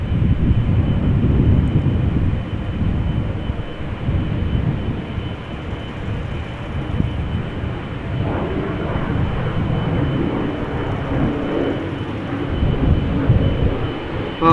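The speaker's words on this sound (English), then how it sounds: "Now we're waiting for a 777-200 from United going to Houston." A United Boeing 777-200 jet airliner heads out of Amsterdam Schiphol for Houston, heard as a steady, moderately loud distant engine rumble that swells slightly near the end.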